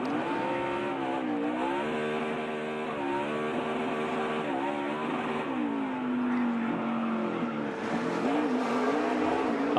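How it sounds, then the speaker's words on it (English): A NASCAR stock car drifting, its engine revving hard in rising and falling pitch sweeps with tire squeal woven through, loud and continuous for about ten seconds with no talk. "Drifting is a really hard thing to do. But when you don't have a car that's built for it, like a stock car, it's pretty challenging."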